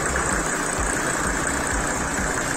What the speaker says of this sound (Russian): Так ровненько, хорошо работает. Двигатель, походу, нормальный.